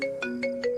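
A phone ringtone plays a quick, bright melodic pattern of repeating chime notes, clear and alone.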